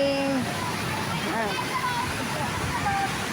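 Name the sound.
Majayjay Falls waterfall with people bathing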